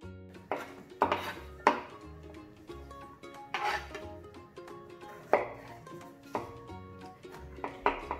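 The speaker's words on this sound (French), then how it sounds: "on va émincer l'oignon" A knife slicing an onion finely on a board, giving a run of sharp, irregular chopping knocks that are close and fairly loud, with a few clinks of kitchenware between them.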